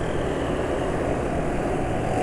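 A motorcycle engine idles steadily on Upsol M40 SAE 40 oil with NRO two-stroke oil. It gives a continuous, even drone that stays close and constant from start to finish, with no voices heard.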